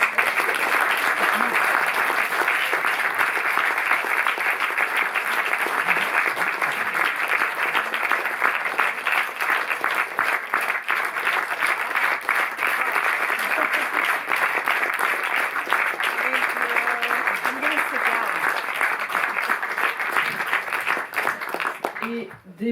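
A cinema audience at the Paris Cinémathèque gives sustained applause welcoming actress Debra Winger, a loud, dense, unbroken clatter of clapping that carries on for over twenty seconds before cutting off abruptly.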